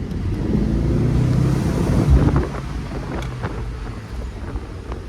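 A 2001 SAAB Viggen on the move, with a steady low engine drone and heavy wind rush buffeting the microphone, loud and constant throughout.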